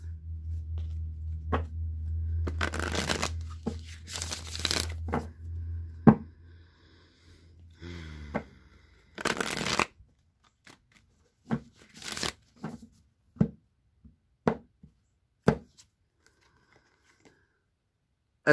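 Oracle cards shuffled in loud riffling bursts through the first ten seconds, then a run of sharp, separate snaps and taps as single cards are drawn and laid down, close and alone.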